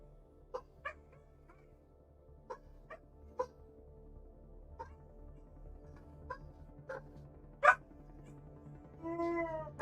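A dog barks in short, scattered yips and woofs at a distance indoors, irregularly spaced over a quiet background, ending with a louder whining bark.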